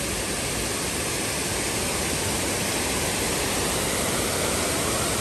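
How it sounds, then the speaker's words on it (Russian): Flowing water of a stream in a shady park, a continuous, dense rushing wash, close and loud, steady throughout with no voices over it. "Вода проточная."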